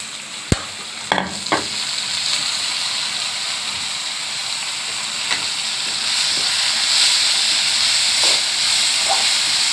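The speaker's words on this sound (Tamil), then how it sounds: "இதெல்லாம் கொஞ்சம் வதக்கிங்க." Onions frying in a pan with curry leaves, mint and coriander give a steady, close sizzle and hiss, broken by a few sharp stirring clinks near the start.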